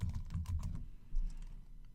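Fingers type on a computer keyboard while entering a billing credit type, a close run of quick clicky keystrokes that fades into lighter taps, with no talk.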